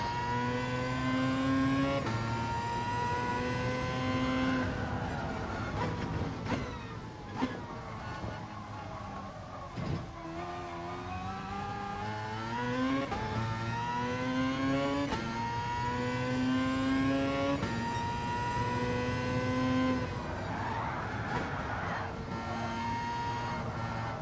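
A car engine in Gran Turismo Sport revs through rising and falling gear changes on a track, a steady loud mechanical drone with repeated upshifts and downshifts, heard alone for most of the stretch.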